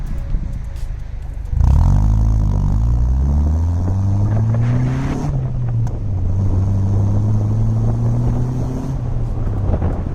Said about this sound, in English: also makes the car sound quite a lot gruntier. It makes for a nice rumble.